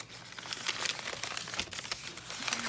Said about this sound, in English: This is the first thing I'm unwrapping.